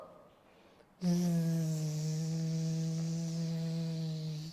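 A voice imitates honeybees buzzing with a loud, steady droning hum held for about three and a half seconds after a brief quiet start.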